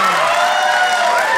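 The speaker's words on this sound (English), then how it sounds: "Applaud if you know what a snow day is." A comedy-club audience applauds with dense, steady clapping and a few cheers, loud and continuous through the short moment.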